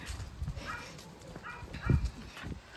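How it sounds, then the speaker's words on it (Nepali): A dog barks in a few short, fairly faint bursts, mixed with nearby voices and background movement. "बिचरा यस्तो भुक्ने कुकुरलाई कसले चाहिँ एडप्ट गर्छ"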